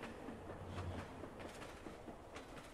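A train rumbles past a station platform in a first-person station-themed horror video game, a steady close rolling rumble with faint rhythmic clatter from the wheels, continuous throughout, with no talking.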